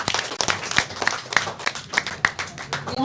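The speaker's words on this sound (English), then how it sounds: "please come and clap for yourself" People at a youth sports press conference clap loosely and unevenly, scattered sharp hand claps close by, some falling into a regular beat, with no talking over them.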